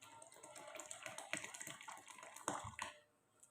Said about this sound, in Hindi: अब इसमें ठंडा पानी डालेंगे थोड़ा सा